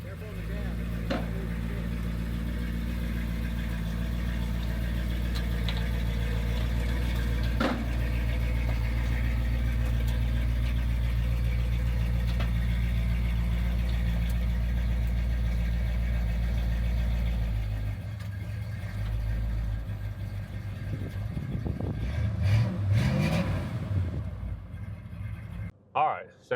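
A truck's engine runs and revs steadily for most of the stretch, a loud low drone that cuts out, followed by knocks, rattles and faint voices.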